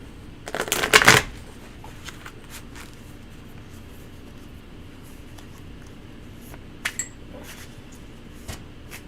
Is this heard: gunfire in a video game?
no